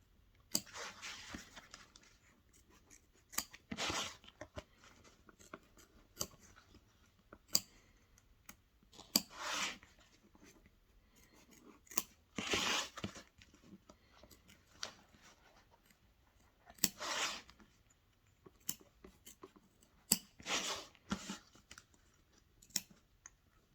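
Scissors cut out a satin-stitched embroidered strawberry coaster, making faint, sporadic snips and clicks spaced a few seconds apart in a quiet room.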